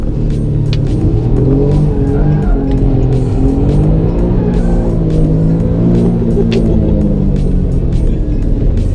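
An Alfa Romeo Giulia Quadrifoglio driven hard through slides and oversteer, its engine droning loud and close with wavering pitch as revs rise and fall, punctuated by short sharp bursts.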